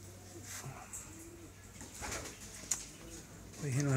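Pigeons in a rooftop coop coo repeatedly in soft, rolling phrases over steady background noise, with a brief flutter and a louder, closer coo near the end.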